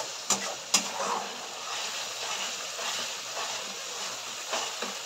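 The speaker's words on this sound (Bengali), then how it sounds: "একটু ভালো করে নাড়িয়ে দেবো, যেন মশলাটা যেন নিচে লাগে না" Masala being stirred and fried in a pan for a fish curry, a steady close sizzle with soft scraping strokes and a couple of sharper knocks against the pan.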